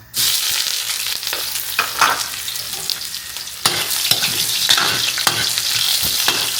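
Onion and garlic fry in a pan as the base for duck adobo. A bright, continuous sizzle runs throughout, with occasional stirring scrapes, and it grows slightly louder partway through.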